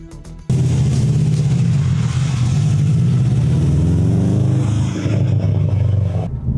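A Subaru WRX STi starts off and drives, its engine revving loud and close with rising and falling pitch as it accelerates through gears, then easing near the end.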